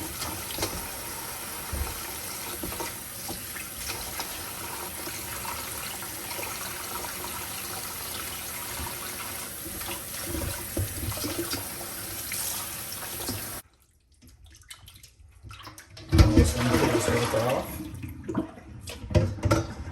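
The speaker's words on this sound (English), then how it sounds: "Get some fresh water, rinse it again." Running tap water rinses a leg of lamb in a kitchen sink, a steady loud stream of water for about fourteen seconds that cuts out abruptly, then resumes in splashy bursts.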